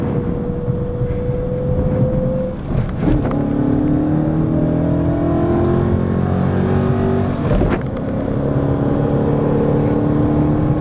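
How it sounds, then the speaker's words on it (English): A car passes along a road, its engine and tyre noise rising and falling in pitch as it approaches and goes by, fairly loud and close, with a second swell of passing noise later and no talking. "There's one car coming."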